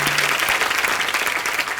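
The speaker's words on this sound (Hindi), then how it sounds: "सिद्धार्थ और कटरीना के लिए जोरदार ताली हो जाएगा" Studio audience at a TV comedy show gives a loud, dense round of applause for arriving guests, continuous clapping filling the room throughout.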